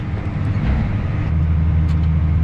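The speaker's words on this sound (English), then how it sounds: "turn on the auger, which I have beautifully lined up over the Kenworth" A grain auger runs steadily, unloading grain into a Kenworth truck: a continuous, loud mechanical drone with low engine rumble, unbroken throughout and without speech.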